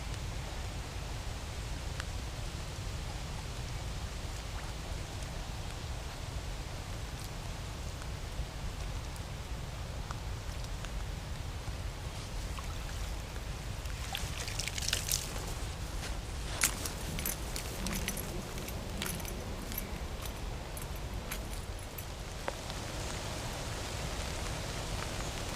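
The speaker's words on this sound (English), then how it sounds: "This sort of drizzle seems to be settled in for the night." Steady drizzling rain near a river on the Kennet, a constant soft hiss with scattered faint patters and small rustles throughout.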